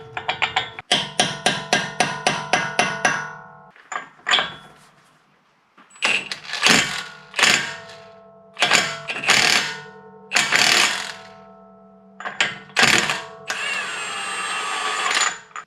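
Rapid ratcheting clicks from a socket wrench working the axle nut on a second-generation Honda Pilot with a 36 mm socket, followed by a series of loud metallic bangs and a final sustained mechanical whir, close and without talk.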